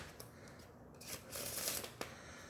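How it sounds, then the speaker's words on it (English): A deck of playing cards being shuffled, a soft riffling flutter that swells and fades over a couple of seconds, close and fairly quiet with no talking. "first we shuffle them, making sure that we don't know"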